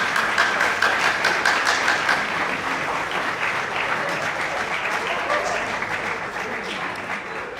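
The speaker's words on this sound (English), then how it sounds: "So please stand up and give them a big applause" Audience applause at a student Dragons' Den–style business pitch event, dense steady clapping filling the room for several seconds, loud and close with faint voices mixed in.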